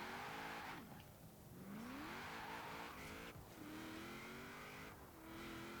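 An S2-class car in Forza Horizon 4 drives continuously, its engine revving up and down through rising pitch sweeps and gear shifts, with a brief tire squeal; loud and steady throughout, with no voices.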